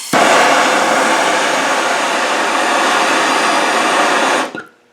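Close, loud, steady roar of a MAP gas torch flame used to heat seized exhaust manifold studs, running continuously and then cutting off abruptly at the end.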